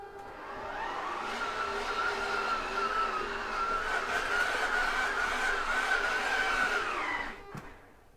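An electric bed lift motor in a 2012 Thor Windsport 31J motorhome whirs with a steady, moderately loud hum for about seven seconds as it raises the bed, then stops with a soft clunk, with no talking.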